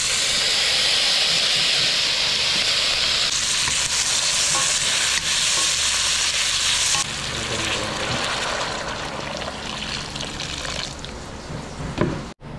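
A banak (mullet) fish tail frying in a pan gives a loud, steady hiss and sizzle that shifts in texture a couple of times, then eases down and cuts off near the end.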